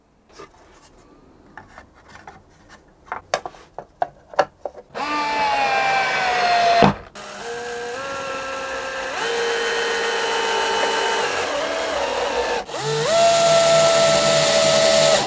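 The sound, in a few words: clamping and screwing violin back onto mold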